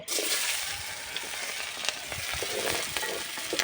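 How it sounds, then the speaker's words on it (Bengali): Onions frying in oil left over from frying fish, a steady close sizzle with occasional stirring clatter, no talk. "মাছ ভাজার তেলে আমি এই পেঁয়াজ তুলে দিচ্ছি"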